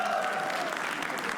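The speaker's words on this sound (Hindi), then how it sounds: "तालियां एक बार मधुर" A short burst of audience applause during a roast show, dense clapping at steady volume.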